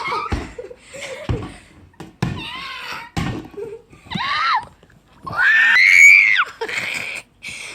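Several sharp, shrill human screams burst out in separate blasts, with a long loud one near the end, close and intense, mixed with a thud or slam and some laughter.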